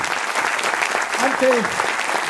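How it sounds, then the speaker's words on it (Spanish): Audience applause at a musical tribute in Galicia, a dense, steady wash of clapping from a crowd with a few faint voices and brief vocal tones rising over it partway through. "un aplauso para ellos."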